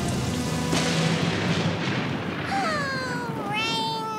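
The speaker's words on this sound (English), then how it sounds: "Oh, rain, rain," Steady hiss of cartoon rain falling continuously in a swamp scene, a dense wash of sound throughout with rising whistly tones coming in over it near the end.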